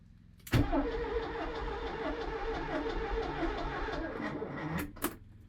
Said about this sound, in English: let's see if anything happens when I turn the key